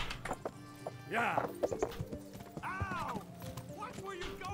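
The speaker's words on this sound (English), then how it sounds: "I'm thinking of riding into him with a horse instead." Horse hooves clip-clop at a steady pace in the medieval video game Kingdom Come: Deliverance, close and clear, with a couple of loud whinnies rising over the hoofbeats and a faint voice in the background.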